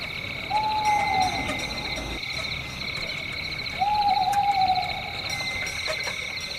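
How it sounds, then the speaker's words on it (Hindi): An owl hoots twice in a night forest, each call a long, smooth hoot a few seconds apart, over a steady chirring of crickets. "कभी-कभी उल्लू की हू हू आवाज जंगल को"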